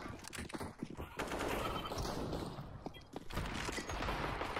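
A Negev machine gun fires long rapid streams in Counter-Strike: Global Offensive, dense automatic bursts with brief breaks, loud and close over a busy match mix.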